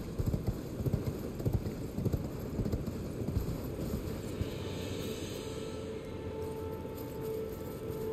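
A horse gallops in the video game Elden Ring, its hoofbeats a quick rhythmic clip-clop that is clearest early on, then fades under an ambient game background.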